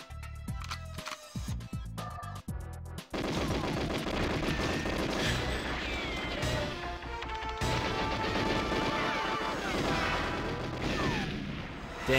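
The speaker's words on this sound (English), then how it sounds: "Start shooting." Gunfire in the shooter GoldenEye, sharp single shots at first, then a dense, continuous barrage of automatic fire and explosions, loud and close throughout.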